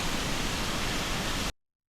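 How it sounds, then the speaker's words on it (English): Roaring water of a smaller cascade at Iguazu Falls between Argentina and Brazil, a dense, loud, unbroken rush that cuts off abruptly after about a second and a half. "The smaller waterfall here."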